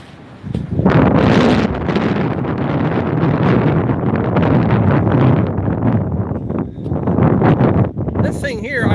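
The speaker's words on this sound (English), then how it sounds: "it's gonna get really windy out here." Strong gusts buffet the microphone outdoors on a farm, a loud, continuous roaring rush that surges and dips over several seconds.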